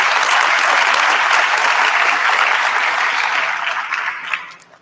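Steady, dense applause from a graduation ceremony audience fills the hall, holding loud and even before tapering off at the end.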